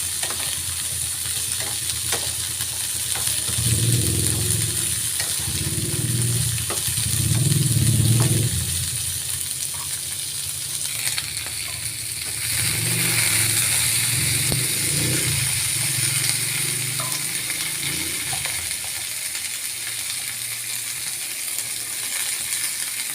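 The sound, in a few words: sautéing string beans and squash with shrimp in a pan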